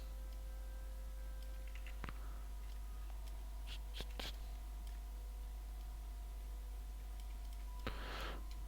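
A few sharp, isolated clicks, like a computer mouse, spaced seconds apart over a low steady hum in a quiet room.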